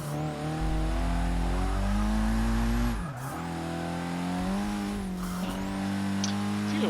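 Nissan Silvia Spec-R S15 drift build in Forza Motorsport 6 roars at high revs while sliding sideways, engine droning steadily with gear shifts and tire squeal, loud and continuous.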